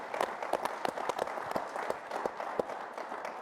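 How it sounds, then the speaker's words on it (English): A conference audience at a plenary session claps in scattered, uneven bursts, fairly faint and spread out over a few seconds. "Let's give him a round of applause."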